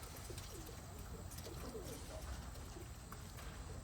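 Pigeons cooing at a loft, soft low coos repeating through steady outdoor noise, faint and fairly distant, with no talking.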